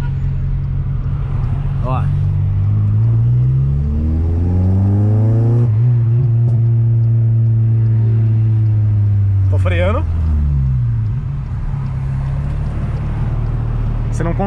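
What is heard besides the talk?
car revving with anti-lag exhaust pops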